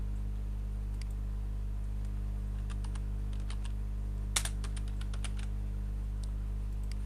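Scattered keystrokes clatter on a computer keyboard in short irregular bursts, faint over a steady low electrical hum.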